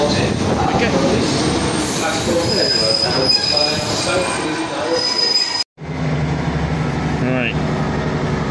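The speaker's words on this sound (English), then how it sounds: "Leaving Queen Street Station. We'll be travelling on this train as far as Philly." A train leaving Queen Street Station in Cardiff lets out a sustained high-pitched wheel squeal over a rumbling carriage. The screech holds steadily before a sudden brief dropout and a quieter, lower running sound.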